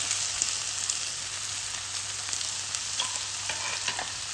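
Onions sautéing in a pan with crushed ginger and garlic give a steady, soft sizzle and frying hiss close by, with faint stirring scrapes and no voices.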